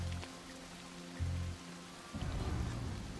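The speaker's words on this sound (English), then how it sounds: "I could do without the rain" Steady rain in the video game Desperados III, a dense broadband hiss that swells louder partway through with low rumbling ambience underneath.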